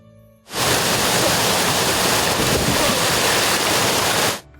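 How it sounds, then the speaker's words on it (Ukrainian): Waterfalls at an old mill rush in a dense, steady roar that starts abruptly, holds at constant loudness for about four seconds and then cuts off, with no voices. "Переводимо дух під шум водопадів"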